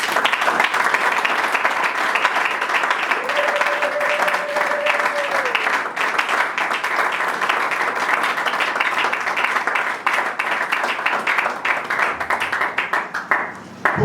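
A church congregation breaks into sustained applause for Jesus, dense clapping from many hands that holds steady and loud throughout, with a faint voice or tone rising briefly in the middle before the clapping tapers near the end.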